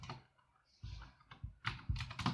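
Quiet, close typing on a computer keyboard, a few scattered keystrokes followed by a quicker burst of clicks, with no voice over it.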